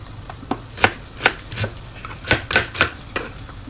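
Onion being chopped on a board with a knife, about a dozen sharp, separate chops in an uneven rhythm, close and fairly loud, no talking.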